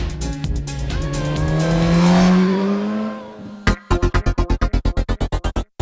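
A loud Suzuki GSX-S1000 motorcycle engine drones and swells with rising pitch, then cuts off and a rapid series of sharp, evenly spaced exhaust bursts follows.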